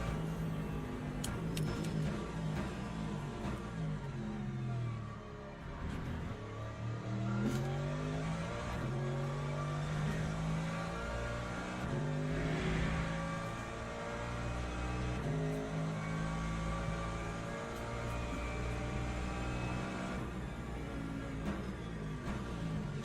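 A hypercar engine roars in the racing game Le Mans Ultimate, revving up and down through repeated gear shifts and sweeping pitch changes, loud and steady for the whole stretch without any talk.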